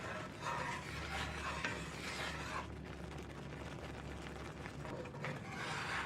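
A utensil scrapes and stirs across the bottom of a cast iron pan of gravy, a steady close rasping and rubbing with soft irregular strokes and no talk.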